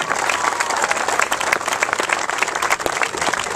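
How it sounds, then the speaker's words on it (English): Audience at a campaign announcement for Suffolk County Executive breaks into sustained, dense applause, a steady crackle of many hands clapping close by, with no talk over it. "Give him a round of applause."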